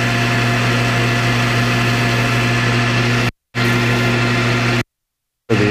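A metal lathe cuts a heavy chamfer on the end of a clamp lever stud before threading. A close, steady humming drone runs throughout and cuts out abruptly twice, with no voices.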